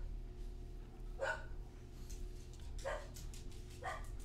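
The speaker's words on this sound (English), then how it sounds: "These dogs, y'all." Several dog barks ring out, separated sharp yelps spaced apart over a steady low background hum, moderately distant.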